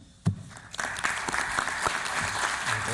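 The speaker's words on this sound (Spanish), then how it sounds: "Les damos nuevamente un fuerte aplauso." An audience at a senator's speech in a legislative setting breaks into applause, a sharp onset followed by sustained clapping from many people.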